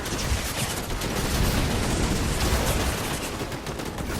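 Gunfire crackles in dense, continuous rapid volleys, loud and close throughout, with no talking over it.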